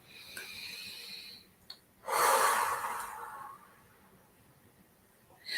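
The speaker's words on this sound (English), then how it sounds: "Let's take a breath here." A single deep breath drawn in, a loud close breathy rush lasting about a second, with faint quieter breathing before and after.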